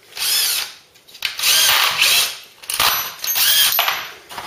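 A power drill bores out a rivet on a Mk3 Ford Cortina during a classic car restoration, with several loud, close high-pitched whining bursts that rise and fall as the bit bites into the metal.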